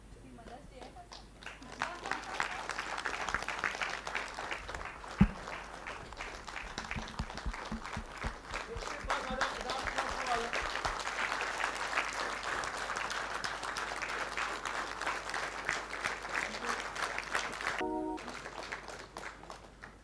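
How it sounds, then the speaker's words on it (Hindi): Sustained applause from an audience at a stage event fills the hall for about twenty seconds, a dense steady clapping with a sharp louder clap early on, while a speaker talks over it. "बोर्ड मेंबर, तालियां बजती रहनी चाहिए"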